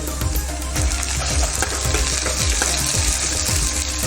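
Ginger-garlic paste hits hot oil with browned onions in a pan for a dhaba-style egg curry, making a loud, continuous close sizzle broken by repeated scraping stirs.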